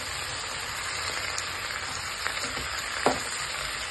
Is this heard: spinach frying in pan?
yes